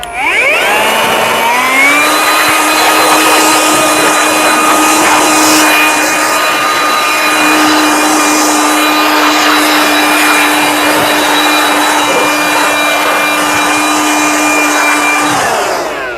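An OSUKA OCJB846 cordless air blower runs with a steady high whine after a brief rising spin-up, blowing dust for about fifteen seconds before cutting off; loud, close and continuous with no talking.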